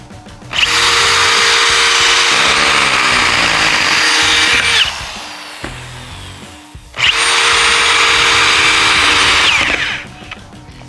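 A Milwaukee M18 cordless drill runs at low speed, in speed 1 with a top speed of 500 RPM, boring into wood. It makes two loud, sustained whirring runs of several seconds each, with a brief pause between them.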